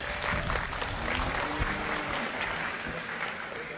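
Steady, dense applause from a county fair livestock show crowd, sustained throughout with no pauses and no talking over it.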